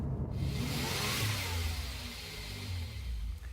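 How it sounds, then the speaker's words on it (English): A Lexus RC F engine revs hard after a downshift in manual mode, a loud sustained roar with a rising whoosh that eases slightly toward the end, heard without voices. "throw it into manual mode, drop a couple of gears, get the revs up"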